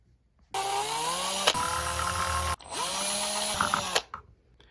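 An electric driver backs out the four bracket bolts on an RMX 2.5 RTR RC car. Two sustained, close whirring bursts each end with a sharp click, and quiet pauses come between them.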